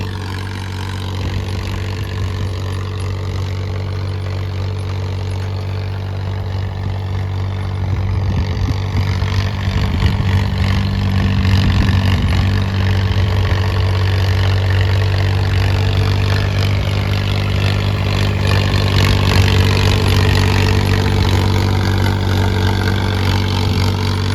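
A Mahindra 275 tractor runs in a field pulling a Tornado rotary tiller, its engine giving a steady, loud low-pitched drone with a constant hum that swells slightly as the load rises partway through. No one talks over it.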